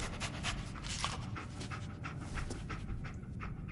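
A dog companion in the video game Fallout 4 pants rapidly and steadily, close and fairly loud, with a continuous breathy rhythm and no talking.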